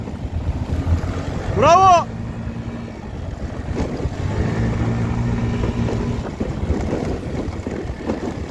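An RKS Azure 50 Pro motorbike engine hums low and steady while riding, heavily buffeted by wind noise on the microphone, with a brief spoken word heard.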